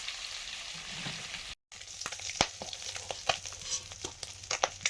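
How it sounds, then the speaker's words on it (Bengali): Small fresh mourola fish frying in oil: a soft, steady sizzle with scattered sharp pops and crackles, close up, after a brief silent gap. "মাছ ভাজা হয়ে গেছে"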